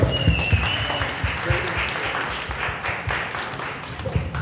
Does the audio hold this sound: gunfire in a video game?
no